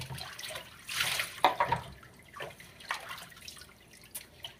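Dirty bathwater drains from a sink after bathing a Sphynx hairless cat, with gurgles, drips and splashy trickles, moderately close and irregular.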